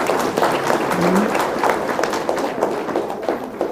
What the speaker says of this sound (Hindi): तो उसके लिए भी तो ताली आपको बजानी चाहिए कि नहीं।